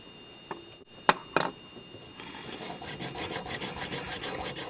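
A sharpening stone rubs back and forth across a Smith & Wesson third-generation pistol slide, giving a steady run of rhythmic rasping strokes that follows a few sharp knocks near the start, close up and with no talk.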